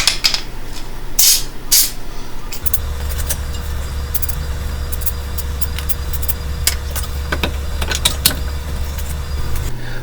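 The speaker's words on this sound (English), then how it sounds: "I'm going to throw some spray anti-seize" Spray anti-seize hisses from an aerosol can onto the seized axle splines of a 2002 Honda Civic during a front ball joint job, in short close bursts over a steady low motor hum.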